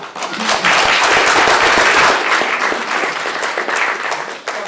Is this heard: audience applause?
yes